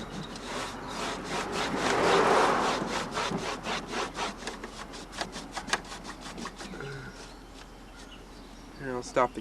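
Rhythmic scrubbing strokes on the casing of a 1962 Zenith KPS80L portable record changer during cleaning, close and steady, with faint talk heard in places.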